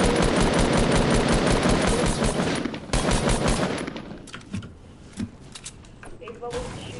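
Fortnite gunfire in a duos match: a long, loud stream of rapid automatic fire for about three seconds, then a shorter burst, fading to scattered single shots and distant pops.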